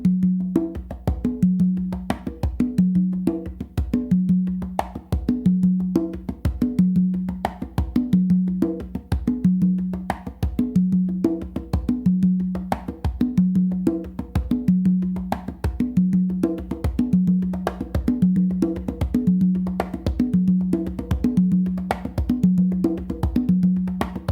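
Songo rhythm played on three congas, including the tumba, with bass strokes and slaps forming a steady, swinging pattern that repeats evenly for the whole stretch, close and moderately loud with no voices.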